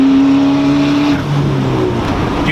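Stock Honda Civic running high turbo boost, a loud steady engine tone under acceleration that drops away midway into a broader rushing hiss like a blow-off valve venting, with no one talking.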